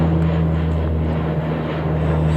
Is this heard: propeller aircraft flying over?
yes